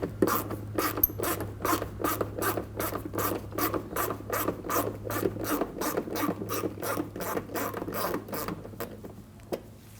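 Socket ratchet loosening fender liner screws on a 2010-2019 Ford Taurus, giving a steady run of rapid, close pawl clicks in rhythmic bursts with a faint low hum underneath.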